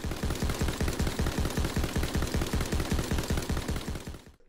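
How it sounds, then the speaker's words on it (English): Rapid automatic gunfire from the L4 Siege in Call of Duty: Black Ops 3, a loud, steady stream of evenly spaced high-pitched shots lasting about four seconds before cutting off abruptly. "the L4 Siege, which proved how high-pitched guns could still sound awesome when you squeeze the trigger"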